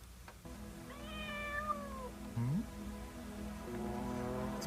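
A cat meows from a movie soundtrack, giving a drawn-out meow followed by a shorter rising one, set against a steady hum and quiet background music.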